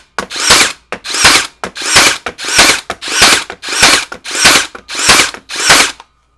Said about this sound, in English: You drive a lot of nails real quick with one of these.